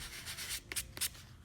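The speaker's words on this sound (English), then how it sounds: "I've got some wet or dry sandpaper here, 400 grit, and I'll take care of that." Sandpaper of 400-grit wet-or-dry grade rubs over a primed plastic wheel center cap, soft close scratchy strokes in a short series with two sharper scrapes near the end.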